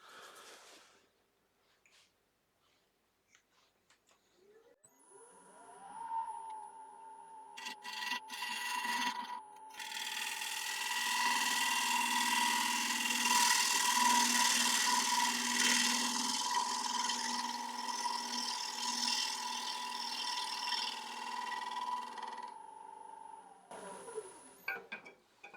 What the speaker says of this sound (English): my 3/8 ball gouge, 3/8 inch ball gouge